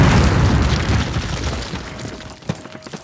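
A loud close explosion in the 2003 Call of Duty game booms at the start, then a rumbling tail fades out with debris bursts and small pops.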